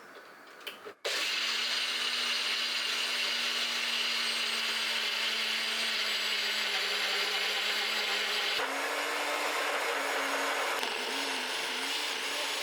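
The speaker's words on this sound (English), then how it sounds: "then they go into the NutriBullet with some salt" A NutriBullet blender whirs loudly and steadily for over ten seconds after a brief start, grinding peanuts with salt into a thick mix, with a slight change in pitch partway through.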